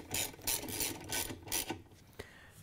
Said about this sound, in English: Once you have it down all the way, you can tighten down the agitator bolt.